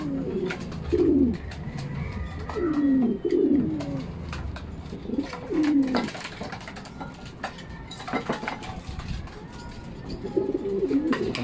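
Racing pigeons coo repeatedly in a loft during a 576 km race finish from Tacloban, Leyte, with soft throaty rolling calls recurring every second or two over steady background noise and occasional clatter.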